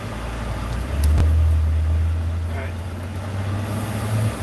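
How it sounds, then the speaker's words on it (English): Heavy morning road traffic heard from inside a moving car: a steady, close low engine and tyre rumble with a dull thump near the start. A faint voice may sit in the background. "Traffic's a little crazy this morning"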